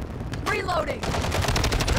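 Rapid automatic fire from an STB 556 rifle in Call of Duty: Modern Warfare II, loud, close bursts running through the whole moment alongside other game sounds.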